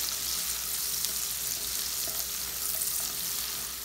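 Butter sizzling and frying in a pan as the base for farofa, a steady close crackle and hiss that continues evenly throughout with no talking.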